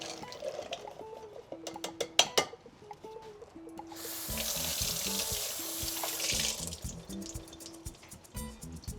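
Canned cannellini beans are rinsed under a kitchen tap, with a steady rush of running water for a few seconds amid clattering and clinks of handling in the sink.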